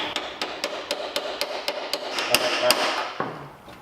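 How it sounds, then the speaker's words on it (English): Sharp metallic hammer blows on a stuck bolt of a 1973 VW Beetle engine ring out in a steady series, about a dozen strikes at a regular pace, ending in a final heavier hit. "hammer it again"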